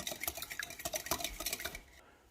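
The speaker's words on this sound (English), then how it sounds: "grab your whisk and whisk your mixture until it's well combined" A whisk beating brownie mixture in a bowl, with quick, rhythmic scraping and clinking taps close by for about two seconds before stopping abruptly.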